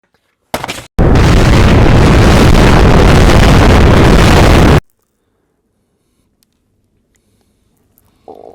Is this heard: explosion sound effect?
yes